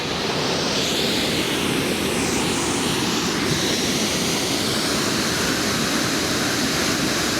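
A waterfall with logs poking up in the middle gives a steady, loud, broadband rush of falling water that stays constant throughout, with no voices.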